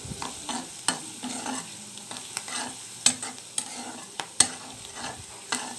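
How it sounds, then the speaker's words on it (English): Onions sizzle and crackle steadily in a hot pan while being stirred, with sharp scraping clicks from the utensil against the pan at irregular intervals, close and loud with no talking. "So I'm just frying this onions."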